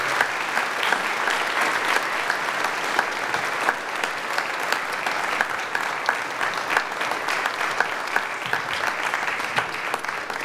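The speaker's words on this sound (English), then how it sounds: "So let's give Tammy a round of applause as well." Church audience at Grace Lutheran applauding, steady hand clapping from a moderate crowd in an indoor hall, sustained for about ten seconds at even strength.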